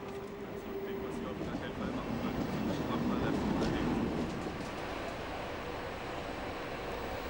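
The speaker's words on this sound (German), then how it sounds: "Ein MRC E-Taurus macht sich mit ihm auf den Weg." A DB car-carrying train hauled by an E-Taurus electric locomotive departs Hamburg-Altona, giving a broad, steady rumble that swells and then eases, with faint tonal hum and background noise.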